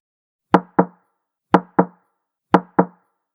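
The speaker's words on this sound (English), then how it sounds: "The tapping grew louder." Knocking from behind a wall as a story sound effect: three evenly spaced pairs of sharp double knocks, each pair a quick knock-knock, close and clear against silence.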